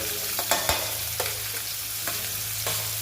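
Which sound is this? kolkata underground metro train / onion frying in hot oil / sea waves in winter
onion frying in hot oil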